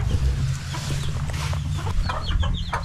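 Backyard chickens cluck and murmur nearby, a busy overlapping chorus of soft clucks and short higher chirps over a low rumbling background, with no talking.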